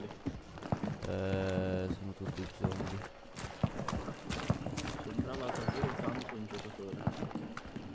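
Horses in the video game Hunt: Showdown, with hoof clip-clops and a whinny amid game sounds, heard close under the chatter of players talking.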